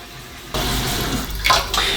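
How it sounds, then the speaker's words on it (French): Water rushes into a cooking pot holding jars for canning, starting abruptly and running as a steady close splashing pour with a brief brighter gush near the end, with no speech. "Donc on va mettre de l'eau dans notre marmite."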